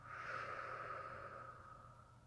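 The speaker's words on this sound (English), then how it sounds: "And blowing out." A slow, soft exhale during a guided breathing exercise, a breathy airy hiss rising and fading gently over about two seconds, close and quiet with no talking.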